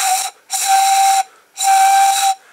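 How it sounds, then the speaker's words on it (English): Breathy, steady whistling tones come from a pan pipe made of drinking straws, blown in three close, loud notes, each about half a second to a second long, with short pauses between. "I demonstrate how pan pipes work by gradually cutting more off"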